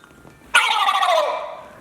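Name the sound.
turkey call imitated by hand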